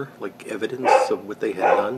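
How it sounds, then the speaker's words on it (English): A dog barks nearby indoors, a few short yips and woofs mixed under a person talking steadily in the foreground. "Sorry about the dog barking there."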